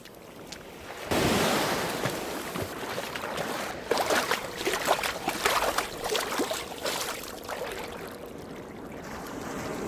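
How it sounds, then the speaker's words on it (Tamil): Fish fillet, cleaned down to bare flesh, being rinsed under a running tap for a honey butter fish dish: a steady, broad splashing hiss of flowing water with uneven surges, close and fairly loud, no talking. "நல்லா சுத்தமாக கழுவி எடுத்துருவோம்"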